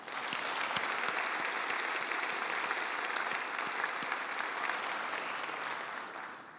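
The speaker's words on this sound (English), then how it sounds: "So let's give them a round of applause." Sustained applause from a large audience at a BCIT graduation ceremony, steady and dense for several seconds before tapering slightly at the end.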